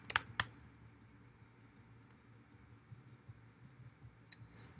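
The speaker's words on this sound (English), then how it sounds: "let's type in white hat SEO" A few keystrokes on a computer keyboard: a couple of quick close clicks at the start and another near the end, separated by a quiet stretch of low room hum.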